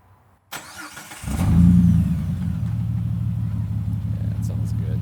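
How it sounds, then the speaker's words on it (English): A Jeep LJ engine with its muffler cut off starts and rumbles loud and close at a steady, throaty idle, with a brief rev swell early on. "obviously you guys know what this sounds like with my Jeep"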